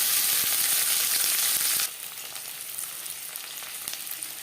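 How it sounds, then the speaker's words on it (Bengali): Chopped onion dropped into two spoons of hot refined oil for chicken momo filling, a loud bright sizzle that drops sharply after two seconds into a quieter, steady fry. "দু চামচ রিফাইন্ড অয়েল গরম করে নিয়েছি দিয়ে দিলাম পেঁয়াজ"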